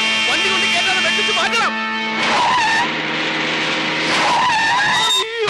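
Tires squeal and skid as a car swerves hard in a Malayalam film scene, a loud, sustained screech with shifting pitch running under overlapping speech and music throughout.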